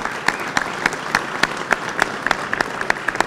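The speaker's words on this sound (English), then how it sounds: "Give him a round of applause." An audience at a bail reform rally on the state Capitol steps applauds the county sheriff, a steady patter of clapping with sharp individual claps standing out, sustained throughout without speech.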